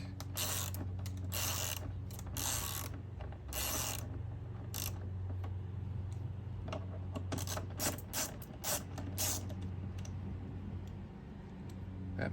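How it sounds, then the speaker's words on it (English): T25 Torx screws are backed out of a Sprinter van horn mount, giving close, irregular ratcheting clicks and small mechanical creaks in short bursts, with no talk. "So we're going to take these screws off. They're T25 torque fittings."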